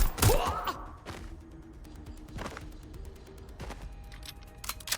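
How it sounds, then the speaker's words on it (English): Gunfire in the video game Watch Dogs Legion, a few sharp shots and bursts spaced across the scene, with a loud opening crack followed by fainter scattered reports. "Taking fire!"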